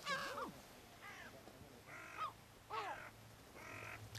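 A crow caws about five times in harsh, separate bursts spaced roughly a second apart, fairly close and clear over a low, steady background hum.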